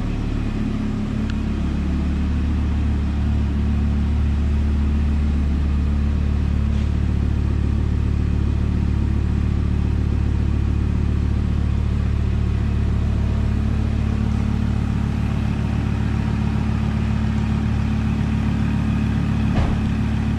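A car engine rumbles steadily at idle with a deep, throaty exhaust drone, holding a constant loud tone throughout.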